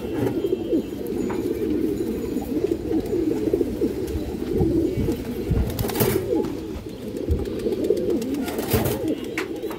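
Indian high-flyer pigeons coo steadily and densely throughout, a constant low murmur from a crowded loft, loud and close with no talk.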